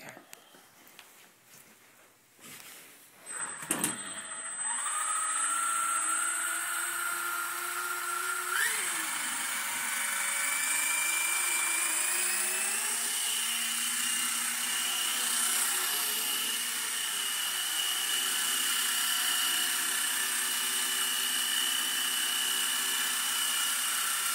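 An upgraded Blade 120 SR micro RC helicopter spins up to a high, steady rotor whine and holds a stable, hands-free hover. The pitch wavers slightly as it adjusts, loud and close for over twenty seconds.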